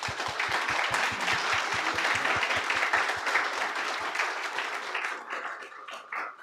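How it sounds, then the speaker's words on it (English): Conference audience applauding panelists after a presentation on Ukrainian refugees, a full room of hands clapping loudly with some rhythmic unison beats, then thinning and fading out toward the end. "let me thanks to my panelists with a great applause"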